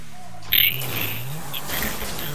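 A car in GTA V revs its engine on a mountain road, a droning motor rising and falling in pitch with a sharp high burst near the start, steady and fairly close.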